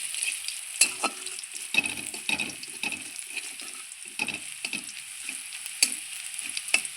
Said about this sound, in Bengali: ফোড়নে দিয়ে দিচ্ছি একটু রসুন। এত করা রসুন দিয়ে দিলাম ফোড়নে। একটু নাড়চাড় করে নেব